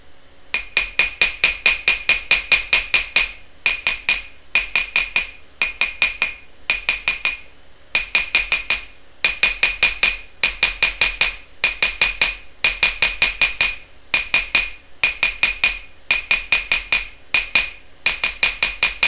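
Rapid bursts of sharp metallic strikes from a rounded face hammer flattening wire, close and loud, landing in quick rhythmic runs with brief pauses between each run.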